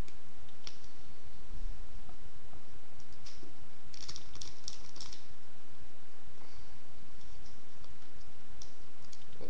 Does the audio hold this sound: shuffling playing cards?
yes